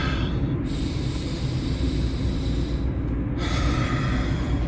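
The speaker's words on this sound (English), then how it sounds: "Big, deep breath." A big, deep human breath, a long steady inhale-exhale rushing over a constant low background hum, with a couple of brief pauses.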